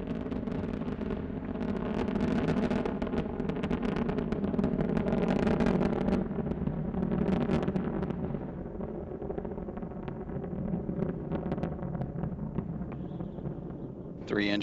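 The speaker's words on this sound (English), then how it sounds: "Three engines now throttling down as Endeavour passes through the area of maximum dynamic pressure on the vehicle in the lower atmosphere." Space Shuttle Endeavour's three main engines roar during the STS-134 launch climb through the lower atmosphere: a dense, continuous broadband rumble that holds steady for the whole stretch, with a voice talking over it.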